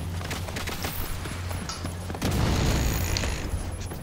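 Rockets fired by a boss in a shooter game roll out as a steady barrage of thumping launches and mechanical clatter, then a heavier rumbling burst rises about halfway through and stays loud, with no talking.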